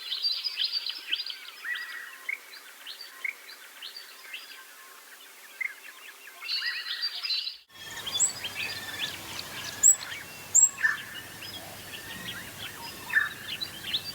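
A babbler calling while attending its nest in Bora Sanctuary in Central Australia's stony shrubland, with repeated high chattering calls in short bursts, then a brighter stretch of varied chirps and sharp notes over faint background.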